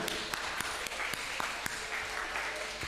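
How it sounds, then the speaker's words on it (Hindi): Studio audience applauding a guest on the Jeeto Attock Jeeto game show, a steady dense wash of clapping with a few sharper individual claps standing out throughout. "आपके लिए मैं तालियां बजाता हूँ।"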